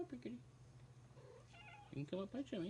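A house cat meows a few times, faint and close, mixed in with a person's quiet speech, a steady low hum running underneath.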